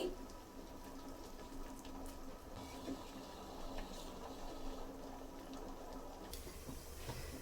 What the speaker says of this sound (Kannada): ನೀರು ಕುದೀತಾ ಇದೆ ಮುದ್ದೆಗೆ